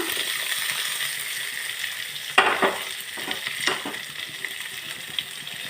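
Raw mango pieces with salt and turmeric hit a hot frying pan, giving a steady low sizzle with a couple of sharper bursts and clinks as the ingredients drop in and get stirred.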